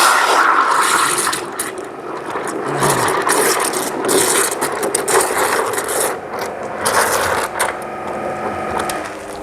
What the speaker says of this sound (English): put your nozzle from the high pressure washer under the water level